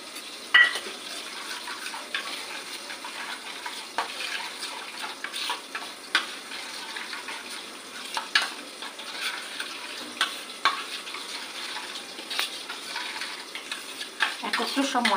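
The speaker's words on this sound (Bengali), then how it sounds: "টমেটোর মধ্যে এই মশলাগুলো সমস্ত দিয়ে এইগুলোকে আমি একটুখানি সুন্দরভাবে মিশিয়ে নেব।" Spices being stirred into tomato in a frying pan, soft scraping and clinks of a utensil against the pan over a faint sizzle, with occasional sharper knocks, close and quiet.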